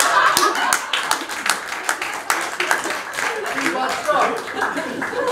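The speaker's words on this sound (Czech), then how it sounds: "může tam být celou dobu potlesk, jak chcete" A studio audience on a television talk show claps in a lively, uneven burst of applause that gradually thins, with voices and light laughter mixed in.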